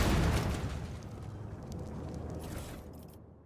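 An in-game explosion in Warhammer 40k Rogue Trader, a broad rumbling blast that starts loud and slowly fades with a trailing roar, heard alone without voices.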